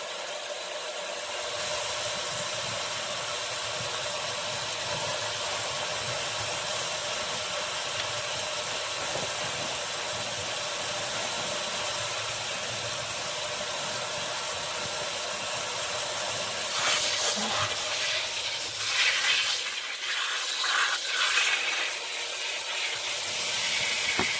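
Running water rinsing shampoo out of hair during a hair-coloring session, a steady close hiss of spray that continues without pause and turns brighter and more splashy toward the end.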